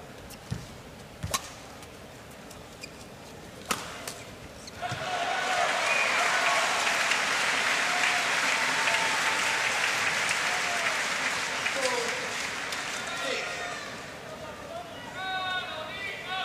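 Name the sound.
badminton crowd applauding and chanting player's name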